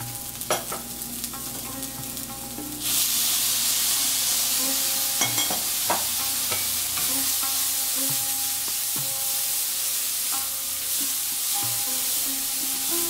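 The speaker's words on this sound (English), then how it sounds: "Add ginger and garlic paste and fry it for 2 more minutes." Onion with ginger and garlic paste frying in a pan, a loud steady sizzle that swells sharply after a quieter start, broken by scraping stirs of a spoon on the pan, with no talking.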